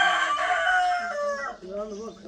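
A rooster among brooding hens on a Punjabi farm gives one long, loud crow close by, ending in a drawn-out falling note against a quiet background.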